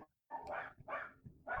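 Two small dogs, a Havanese and a mixed breed, bark in a quick series of three sharp, close yips, faint overall with short gaps between them.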